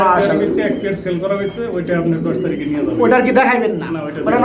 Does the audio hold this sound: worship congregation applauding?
no